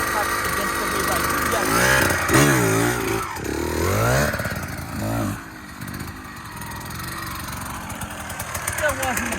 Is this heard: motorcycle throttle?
yes